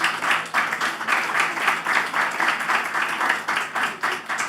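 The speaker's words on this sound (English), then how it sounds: "can we please have a round of applause?" A conference pavilion audience applauds, dense steady clapping from many hands filling the room at an even, fairly loud level for the whole stretch, with no talk over it.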